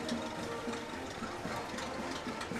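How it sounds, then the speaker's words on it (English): Old truck engines run at a Fourth of July parade in Hingham, a rhythmic chugging idle with regular knocking pulses amid outdoor crowd ambience. "It's amazing they've got those engines still running."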